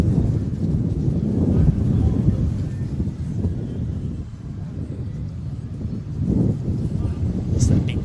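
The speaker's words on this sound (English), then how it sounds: "It's a big gust of wind" A strong gust of wind buffets the microphone outdoors at a beach volleyball match, producing loud, continuous low rumbling that swells and eases over several seconds.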